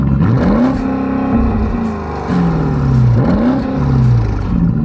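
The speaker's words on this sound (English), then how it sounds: "put the car into neutral and the ESP off and then rev it" A Porsche Cayenne Turbo GT, in neutral with ESP off, revs hard twice, each burst sweeping up in pitch and sagging back to a loud, close idle between them.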